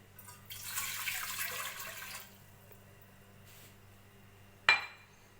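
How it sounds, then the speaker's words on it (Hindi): Water pours into a cooking pot for a homemade chilli garlic sauce. A steady rushing pour lasts about two seconds and then stops, followed by a brief faint splash and a sharp metallic clink near the end. "सबसे पहले पानी डाल लेंगे पतीले में।"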